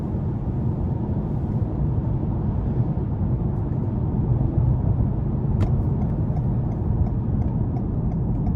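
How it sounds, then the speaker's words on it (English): A 2021 Toyota Camry XSE V6 pulls steadily under acceleration, a continuous low engine and road rumble inside the cabin with a faint click partway through, no voices over it. "Unless you give it a lot of gas like that, and then it'll shift up a little bit"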